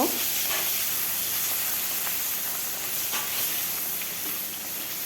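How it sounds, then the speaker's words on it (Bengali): Dried fish fries in hot mustard oil in a wok on a gas stove, giving a continuous soft sizzle and hiss with occasional crackles, steady and close throughout. "কড়াই গরম হয়ে গেছে সরিষার তেল দিয়ে দিলাম শুকনো মাছগুলো ভেজে নেব"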